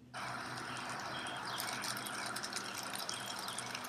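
Water sprays steadily from a hose or sprinkler watering a green lawn, a constant close hiss that starts abruptly and runs without pause, with faint ticking underneath.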